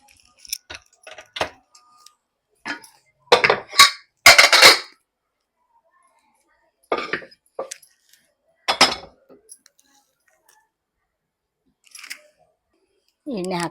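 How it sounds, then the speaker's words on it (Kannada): A pressure cooker is set down on a stove while preparing a rice breakfast dish; several close, sharp metallic clinks and knocks come in short bursts separated by quiet gaps. "ಮೊದಲಿಗೆ ಒಂದು ಕುಕ್ಕರ್ ಇಡೋಣ ಒಲೆ ಮೇಲೆ"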